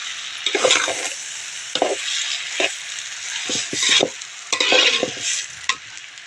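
A spoon scrapes and stirs through a thick vegetable filling for vada pav in a pan, irregular bursts of scraping over a soft steady sizzle, close by.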